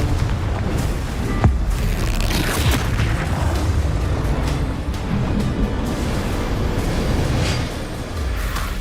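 A Confringo blasting curse explodes in Hogwarts Legacy: a loud, rumbling boom with a sharp burst near the start, then a sustained roaring blast that holds steady throughout and dips slightly near the end.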